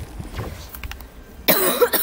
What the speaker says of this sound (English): I've been coughing in a lot of my videos lately